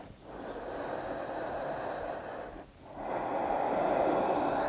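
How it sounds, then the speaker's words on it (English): A long, deep breath drawn during a kneeling lunge yoga pose with arms bound and chest lifted, heard as a sustained airy inhale, a brief pause, then a fuller exhale, close and steady with no talking. "Take one more deep breath here."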